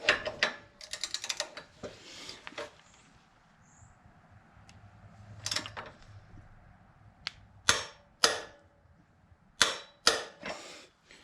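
A torque wrench tightens the saddlebag guard bolts on a 2020 Harley-Davidson Heritage Softail FLHC, with fiddly metallic rattling followed by several sharp, loud clicks spaced a second or so apart in a quiet room.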